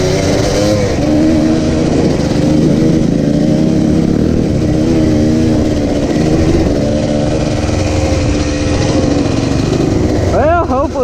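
An ATV four-wheeler engine runs steadily at close range, a loud droning rumble with a brief rev near the end, and people talk over it.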